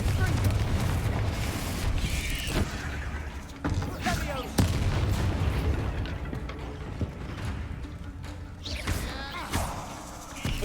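A fire-spell explosion cast in the game Hogwarts Legacy booms out amid a dense, continuous barrage of spell blasts and thuds, with several sharp impact bursts throughout and voices calling out over the noise.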